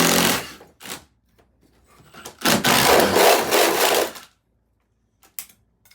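An impact driver bores through wood in a crawl space for PEX water lines, with several short grinding bursts, then one longer rasping run, then quiet and a final brief burst.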